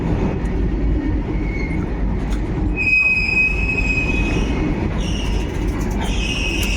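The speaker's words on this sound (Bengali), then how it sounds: "নসিপুর রেল ব্রিজের ডবল ডিজেল লোকোমোটিভ দিয়ে দশটা লোডেড ববিয়ান গাড়ি" A freight train hauled by double diesel locomotives pulls ten loaded BOBYN wagons across the Nashipur rail bridge, a loud continuous rumble with high wheel squeals rising partway through.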